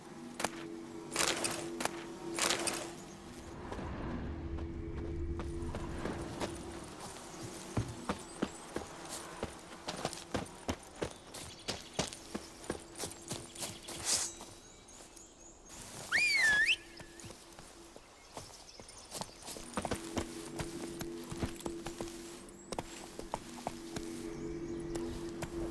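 Hooves of Roach, Geralt's horse in The Witcher 3, clip-clop in a steady walking rhythm across the ground, moderately close, with game ambience and a brief whistle-like tone partway through.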